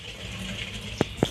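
Water pours into a pot for Maggi noodles, a brief soft gushing stream close by with a couple of small splashing knocks near the end.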